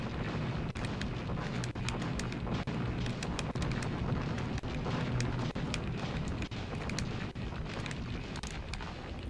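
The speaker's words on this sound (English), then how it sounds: "trying to destroy him with my flame breath" Fire-breath attack from a giant monster in the arcade game Rampage World Tour: a loud, continuous roaring rush of flame with dense crackling bursts and repeated booming impacts, no talking.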